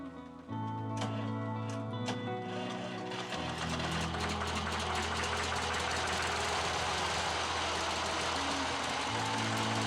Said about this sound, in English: When I went to fire up the tractor for the first time, I left one of the injectors loose